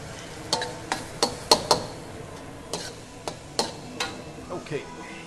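Korean-style fried rice with onions cooks in a pan, with a soft sizzle beneath a series of sharp, close taps and scrapes from stirring.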